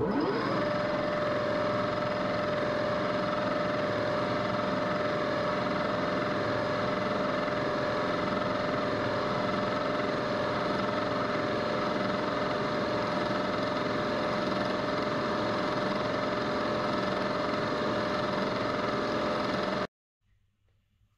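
Carbide cutter milling aluminum at 2,190 RPM with a 1.5-inch radius, a steady loud machining whine and drone running continuously for about twenty seconds before cutting off abruptly.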